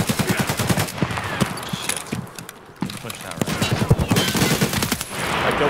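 Rapid automatic gunfire in a video game rattles in dense, loud bursts, dropping briefly to a lull before resuming with sustained fast shots.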